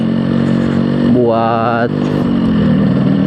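A Yamaha RX-King 135cc Cobra two-stroke motorcycle engine runs steadily while riding, with a brief rise in revs partway through, under someone talking throughout.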